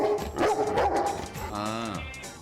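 Judy, a dog inside a shop, barks and yelps close by to announce a customer, with a whining, drawn-out tail to the last bark.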